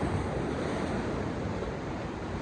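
Rough sea surf crashes against a rugged rocky Jamaican coastline, a loud continuous roar of breaking waves with wind buffeting the microphone, no voices.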